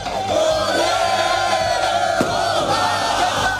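Botafogo supporters cheer and celebrate at the club's Mourisco headquarters in Rio, a dense, loud crowd roar with whoops and shouts that holds steady throughout.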